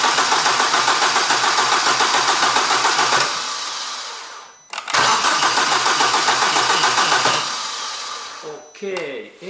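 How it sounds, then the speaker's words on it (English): A car engine cranks and catches during a spark plug test, running steadily for several seconds, cutting out, then cranking and running again before a brief stop, with a voice near the end. "now I go to start my engine again"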